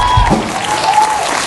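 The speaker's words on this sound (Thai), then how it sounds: "ขอเสียงปรบมือกับตัวเองนะฮะ" Audience applause at a Thai talk event, a brief loud burst of clapping with a faint tone running under it.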